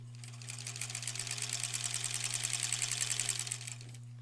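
A sewing machine stitches quilt blocks for a granny squares quilt, running as a steady, fast rapid-fire chatter of needle strokes throughout, close and fairly loud over a constant low mains hum.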